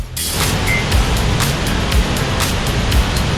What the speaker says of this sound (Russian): Глотка дьявола представляет собой полукруглый участок водопада, где вода с огромной силой обрушивается в огромную расщелину